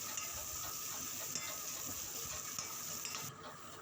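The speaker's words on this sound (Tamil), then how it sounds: "ஒரு கடாயில் வந்து எண்ணெய் போட்டு கொஞ்சம் வெங்காயத்தை நல்லா வதக்கிக்கணும்." Onions frying in oil in a kadai for chicken noodles, a steady close sizzle and crackle that holds level throughout, with a few faint stirring scrapes and no voices.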